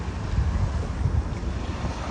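Ocean surf and wind at a surfing beach, a low rumbling wash of waves with gusty wind noise pressing on the microphone, steady and fairly loud with no talking.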